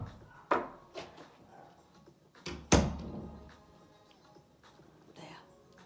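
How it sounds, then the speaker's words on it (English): An indoor door is pushed shut in a room during an exercise class, giving a solid thunk with a short rattle, preceded by softer handling knocks and followed by quiet shuffling. "I'm just going to close the door."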